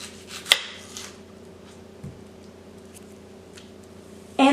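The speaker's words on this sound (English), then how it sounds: "I normally use 2 to 3 yellow onions. Cut off both ends." A knife cuts the ends off a yellow onion on a board, two or three distinct close cuts spaced apart in a quiet kitchen, ending in a louder scrape.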